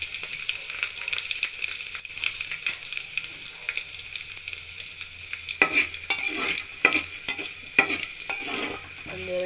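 Garlic and dried red chillies sizzling in hot oil in a pan, a steady hiss broken by the clatter and scrape of stirring.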